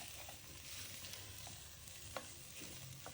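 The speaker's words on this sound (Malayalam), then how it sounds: "ആ ഒരു സ്മെല്ല് പോകുന്നത് വരെ നമുക്ക് നെയ്യിലിട്ടിട്ട് നന്നായിട്ട് തന്നെ ഇതൊന്ന് വറുത്തെടുക്കാം" Lentils roast in ghee in a pan for payasam, giving a steady low sizzle and soft crackle with occasional scrapes and a sharp tap of stirring, close and continuous, with no voices.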